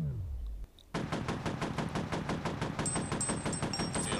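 Rapid automatic gunfire in the shooter game F.E.A.R. during an outdoor firefight, a dense, loud string of rhythmic shots starting abruptly after a short quiet lead-in and running steadily to the end.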